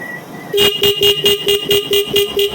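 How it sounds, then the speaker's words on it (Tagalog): A car horn with a relay added honks in a fast series of short, loud, evenly spaced beeps, right up close. "gawin na dalawang busina"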